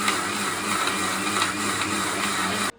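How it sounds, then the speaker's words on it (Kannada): A mixer grinder runs steadily, grinding black pepper and raw masala for tomato chutney. The whir is loud and even, continuous for nearly three seconds before stopping abruptly. "ಇವಾಗ ಕಾಳು ಮೆಣಸು ಅಷ್ಟು ಹಸಿ ಮಸಾಲೆ ಎಲ್ಲ ರುಬ್ಬಿಟ್ಟು"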